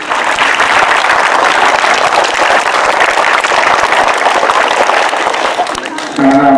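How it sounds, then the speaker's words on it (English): Sustained audience applause at a school ceremony, dense and loud clapping filling the clip, with a voice and music breaking in near the end. "So I must say big hand of applause to you guys."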